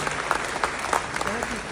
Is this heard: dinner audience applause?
yes